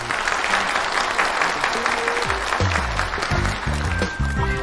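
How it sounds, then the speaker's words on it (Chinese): An audience breaks into applause, a dense wash of clapping that runs the whole time, with a few low musical tones and murmurs underneath. "大家掌声欢迎"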